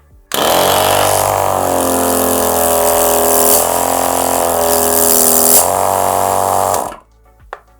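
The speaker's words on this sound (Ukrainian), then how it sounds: "Працює не надто гучно, але в той же час дуже сильний потік повітря видає даний компресор." A Dorozhna Karta DK31-112 12-volt car air compressor switches on and runs with a loud, steady motorized buzz for about six and a half seconds, then stops abruptly, followed by a faint click.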